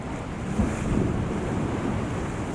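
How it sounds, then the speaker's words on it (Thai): Sea waves washing onto a quiet, empty beach in the early afternoon, a steady close rush of surf with wind buffeting the microphone, no voices. "นี่น้ำทะเล"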